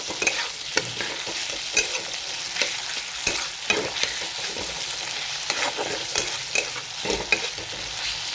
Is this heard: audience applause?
no